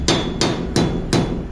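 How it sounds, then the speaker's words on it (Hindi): A hammer strikes steel bodywork four times at an even, unhurried pace, each blow a loud, sharp metallic bang that rings briefly before the next, with no talking. "हथौड़े के साथ"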